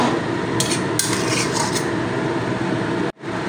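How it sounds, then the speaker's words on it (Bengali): A utensil scrapes and stirs shahi garam masala into chili chicken in a pan, giving steady scraping and light clatter over a cooking hiss that cuts off abruptly near the end. "গরম মশলাটা দিয়ে নেড়ে দেবো, গরম মশলাটা সব জায়গায় মিশে যাবে।"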